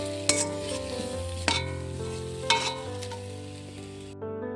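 Spice paste frying in a pan as water is added, a steady loud sizzle with a few sharp stirring clatters, tonal hum underneath, ending abruptly.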